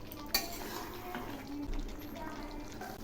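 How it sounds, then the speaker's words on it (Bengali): Mutton curry being stirred in a pot, a spoon scraping and clinking against metal with one sharper knock near the start, faint background noise underneath. "এগুলি আবার নেড়ে দিচ্ছি।"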